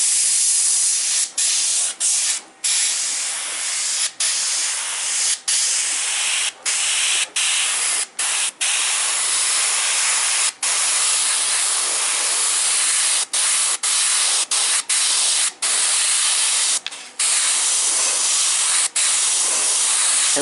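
Airbrush spraying silver paint onto a 3D printed figure, a close continuous airy hiss broken by many short gaps as the trigger is released and pressed again.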